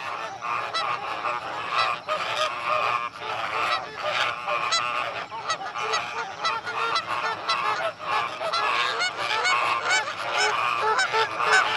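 Large waterbirds at a bird sanctuary in Nellai district, including pelicans, painted storks and ibises, make a dense, continuous chorus of honking and squawking calls close by.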